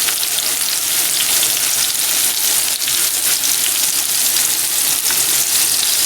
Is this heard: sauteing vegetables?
yes